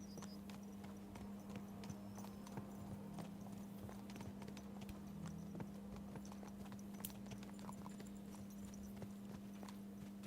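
Horses gallop in the medieval game Kingdom Come: Deliverance II, a continuous quick clatter of hooves over a steady low hum, faint and even throughout.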